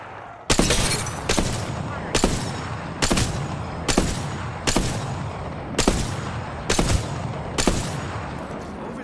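Energy shields in a shooter video game crack and shatter under gunfire in about ten sharp, loud bursts at a steady rhythm, each a bright breaking crunch over a continuous rattle of shots.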